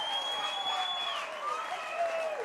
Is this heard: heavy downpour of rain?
no